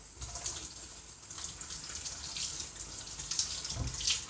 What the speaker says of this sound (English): I will have a nice couple of big sprigs here and give them a rinse.